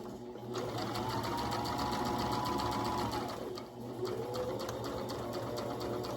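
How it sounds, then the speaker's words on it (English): A sewing machine runs a straight stitch along the edge of a pillow cover, steady close whirring that briefly slows and dips near the middle before resuming, with no talk. "I'm gonna sew with a straight stitch and I'm gonna keep my stitch length at a 3."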